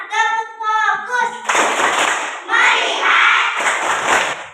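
A group claps hands in the 'tepuk fokus' clapping game, a sung or chanted call followed by bursts of loud, rhythmic clapping in several quick groups.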